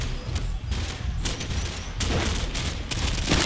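Gunfire in Call of Duty, a multiplayer match in a Rio favela setting, comes as bursts of sharp close shots and rapid automatic fire separated by short pauses.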